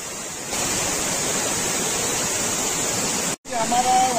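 A waterfall near Pune pours in a loud, steady broadband roar close by, briefly cutting out near the end before resuming with a voice over it.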